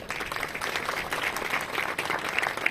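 A crowd applauds loudly and steadily at a Shiv Jayanti gathering in Barara, Ambala, India, many hands clapping together in a continuous wash of sound with no talking.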